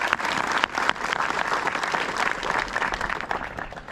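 An audience at an outdoor groundbreaking ceremony for a career and technical center gives a round of applause, dense and fairly close, with a few sharper claps standing out early on.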